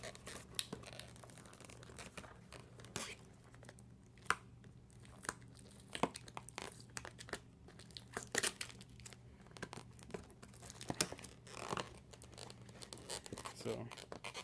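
Cardboard and plastic packaging of a Gamo C-15 CO2 pistol being torn and crinkled open, close and fairly quiet, with scattered sharp rips and rustles over a low steady hum.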